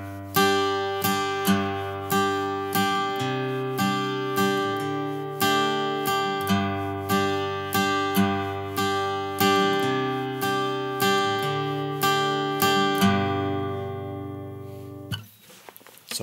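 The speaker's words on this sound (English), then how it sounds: "So all I'm doing right there is switching between three different chords." Acoustic guitar strummed in a steady bass-up-up pattern while switching between three chords, each low bass note followed by lighter upstrokes, played alone and close with an even rhythm that rings out at the end.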